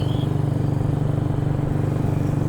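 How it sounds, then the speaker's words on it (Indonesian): A Honda Vision scooter with a hollowed-out stock exhaust putters steadily in traffic, a close, continuous low engine drone with a fast even pulse and no talking. "Dan suasana lalu lintasnya seperti ini."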